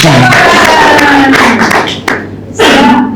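A group at a school discussion session breaks into brief clapping mixed with talk and a few thuds. The clapping fades toward the middle before a voice resumes.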